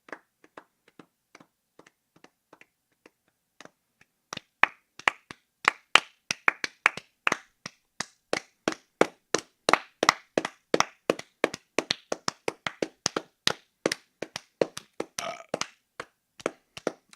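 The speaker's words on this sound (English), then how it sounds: "obviously this clapping is gonna deter some people from watching this far because it's just really loud noises" Podcast hosts clapping their hands loudly, sparse single claps at first, then a long dense run of sharp, close, irregular claps with no talking.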